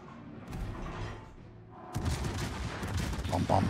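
High-explosive shells fired from warship guns in World of Warships, in a battle involving the Castilla and Hindenburg: after a quieter stretch, a loud, booming volley of gunfire breaks out, with brief talk in the background.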